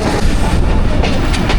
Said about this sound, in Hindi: बिलवाल रेलवे स्टेशन का अप्रोच बना रही है 18 डाउन मिलत एक्सप्रेस